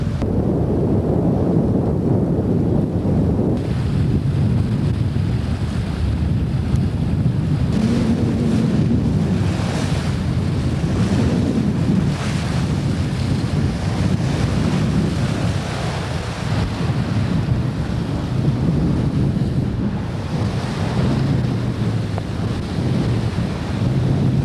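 Steady wind rush and surf-like wash of waves from a sailboat on a broad reach running downwind in a mild 15 knot breeze in the Virgin Islands, continuous and fairly loud throughout with gusting swells and no talk.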